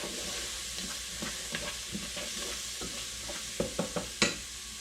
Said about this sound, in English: we're gonna go ahead and cook this down until the onions are translucent